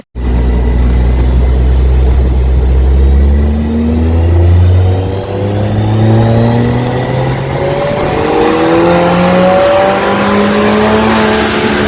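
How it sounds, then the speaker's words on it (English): A Mercedes CLA 45 AMG with decat and stage 2 tune runs on a dyno, its engine loudly revving up through the gears in long rising pulls, close and continuous for the whole stretch. "here is the actual video as well of the CLA 45 on the dyno."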